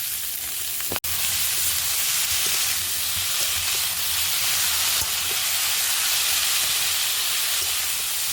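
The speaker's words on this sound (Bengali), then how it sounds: "মশলা কষাই করে জল ঢেলে দিয়েছিলাম, এবার ফুটে উঠেছে" Spiced curry sauce with water boiling in a pan, a steady close hiss and bubbling simmer with one sharp knock near the start, with no talking.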